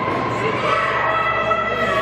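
A wrestling crowd in Montgomery, West Virginia cheers and chatters, a steady wash of shouting and applause filling the arena without pause.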